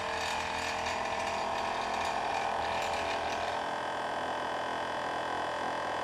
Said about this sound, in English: Thought it were about time we put this little compressor to use.